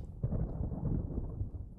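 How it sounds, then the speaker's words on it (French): A video game thunderstorm rumbles low and steady, a soft continuous roll of distant thunder with a slight swell near the start, heard alone without voices. "Il y a de l'orage un peu"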